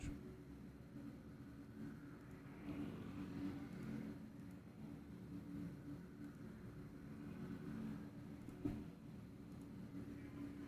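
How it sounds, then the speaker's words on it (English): A car racing in a DNQ Controlled Chaos Coffee Night event, pushed hard into a 90-degree first turn, gives a steady, moderately loud engine roar that rises and falls in waves over about ten seconds, with no voices. "Steve Tauchus really gets that car into turn number 1, the 90-degree turn"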